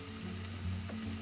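Onions sautéing in a pan for a Kerala crab curry, giving a dense continuous sizzle with a faint mechanical rattle underneath, no voices.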